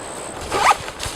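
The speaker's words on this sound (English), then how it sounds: "There's a zippered pouch back here that holds quite a bit of gear" A backpack pouch zipper on an Osprey Exos 48L pack is pulled open in one quick, close rasping zip, with no voices.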